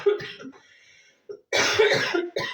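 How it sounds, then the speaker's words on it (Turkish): A person coughs several times in harsh, close bursts, with brief pauses between fits and a final cough at the end. "Vallahi öksürük geliyor arkadaşlar"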